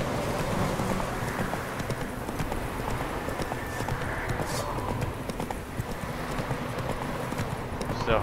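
Roach the horse gallops in The Witcher 3, a steady run of rhythmic hoofbeats under wind, with a player talking over the game sound.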